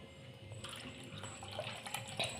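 Soaked chia seeds and their soaking water pour into a vessel while making lemon nannari sharbat, a soft, close liquid splashing and trickling that runs steadily for a couple of seconds.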